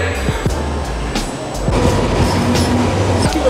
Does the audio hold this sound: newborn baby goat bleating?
no